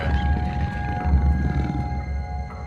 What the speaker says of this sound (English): That is the sound of a tiger.